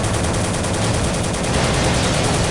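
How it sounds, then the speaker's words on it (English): Enemy gunfire in the World War 2 strategy game Soldiers: Heroes of World War 2 rattles as a dense, continuous burst of shots, loud and steady throughout with no pauses. "Now this thing is firing at me."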